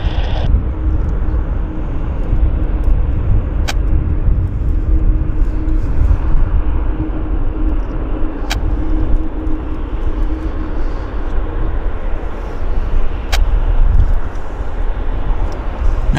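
An Air India widebody airliner taxiing and turning at Vancouver Airport, a steady loud engine rumble and whine that continues throughout, with faint sharp ticks now and then and no talking.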